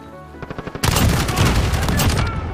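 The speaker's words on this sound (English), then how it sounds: "Literally spawned into somebody's gunfire." Call of Duty gameplay gunfire: a few spaced single shots, then a loud, sustained burst of rapid automatic fire and explosions, close and dense, with no talk over it.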